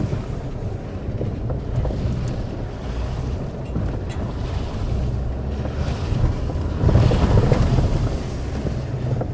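An off-road vehicle rolls through a puddle on a Peak District trail, with a steady low rumble and wind buffeting, then a louder sloshing surge of water near the end.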